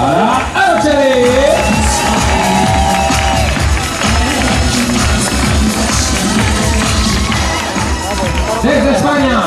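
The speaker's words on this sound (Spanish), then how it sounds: "Fuerte aplauso. Big applause para Ana." Loud, dense crowd cheering and shouting at a tribute show, a steady roar with bursts of yelling throughout, with musical tones underneath.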